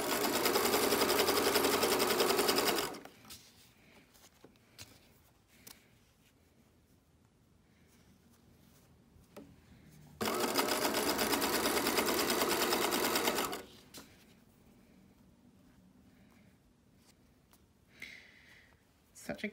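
Sewing machine stitching elastic onto fabric edges for a pair of undies, running in two loud steady bursts of rapid needle hum separated by a quiet stretch with faint handling and soft speech.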